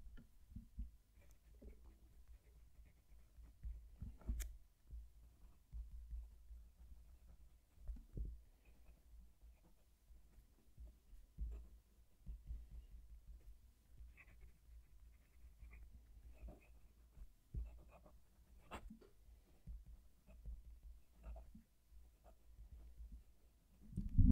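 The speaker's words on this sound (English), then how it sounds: "I'm going to move the mic down to the page so you can hear the pen write" A Jinhao x450 fountain pen nib writes on paper close to the mic, giving faint, soft scratches and light taps over a low room rumble, with no talking.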